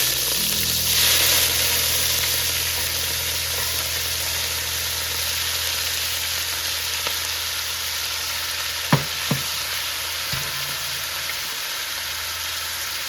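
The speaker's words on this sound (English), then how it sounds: "I'm going to cook the meat in batches" Meat stir-frying loudly in hot oil, sizzling and crackling in a steady frying hiss with a few clinks of a utensil against the pan.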